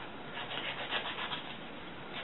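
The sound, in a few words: sanding wooden blocks for a prop gun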